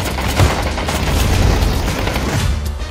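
Dense, continuous gunfire from the battle-royale shooter PUBG, with rapid shots and low booms blending into a steady loud barrage that lasts throughout, with no voices.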